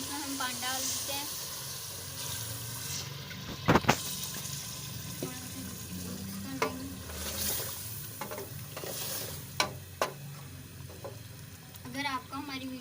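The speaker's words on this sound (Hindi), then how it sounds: "अब इसमें हम पानी डाल देते हैं।" Chicken gosht frying in a pot as water is poured in, giving a steady close sizzle with a few sharp clinks and splashes, while a voice talks at times.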